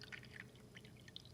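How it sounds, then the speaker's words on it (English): Water being poured into the filter of a 2018 Lourdes Hydrofix water machine, giving faint splashing and trickling gurgles in quick uneven bursts. "You take the amount of water you need, and you literally just pour it right in there."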